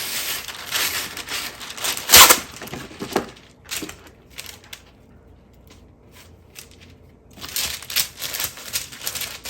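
Paper crinkles and rustles up close as sandwiches for a Great Depression era picnic are folded and wrapped, with bursts of crumpling, a sharp loud crackle, a quiet pause, then more handling.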